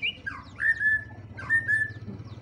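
A magpie robin sings loud, clear whistled phrases, two rising-and-falling bursts close by over a low background hum.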